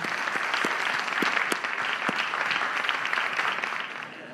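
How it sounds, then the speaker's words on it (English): An audience at a university Three Minute Thesis competition gives a steady round of applause, a continuous mid-distance wash of many hands with a few sharper claps standing out, tapering slightly at the end. "One last round of applause for them."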